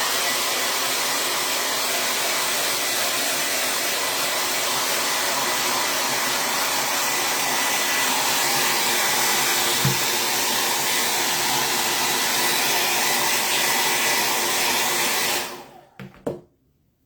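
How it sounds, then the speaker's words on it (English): A hair dryer blows a loud, steady whoosh across a freshly pasted Chalk Couture chalk design, running continuously for about fifteen seconds before clicking off into near silence. "I'm going to run the blow dryer over him real quick so that I don't do anything to smudge the design"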